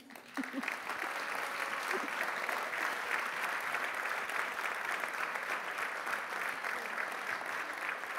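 At an Austrian science award ceremony, the audience applauds the award presenter in a continuous, even burst of clapping that starts abruptly and holds at a steady level throughout.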